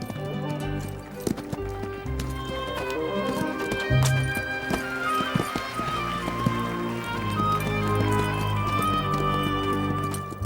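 Horses performing classical airs above the ground, leaping and kicking, with steady hoof clip-clops, occasional neighs and thuds over a continuous band of music throughout.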